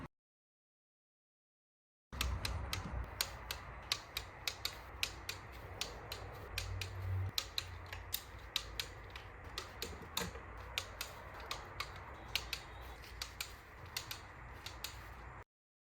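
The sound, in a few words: tightening Volvo valve cover bolts to torque spec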